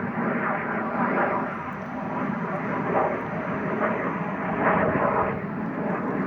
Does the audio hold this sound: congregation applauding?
no